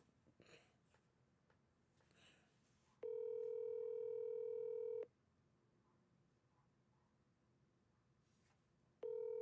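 A phone line's ringing tone while calling a friend, two long steady electronic tones separated by a pause, clear and close over a faint background, with no talking.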